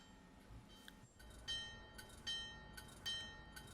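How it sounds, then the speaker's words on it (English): Simulated F40 locomotive in Train Sim World 2 getting under way, a steady low rumble of engine and rail noise with a bell-like ring and three sharp clanks or hisses repeating about every 0.8 seconds. "Train looks like it's about to start moving"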